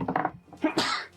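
A single close sneeze bursts out at the end of a tabletop role-playing game session, preceded by a brief inhale and some murmured voices.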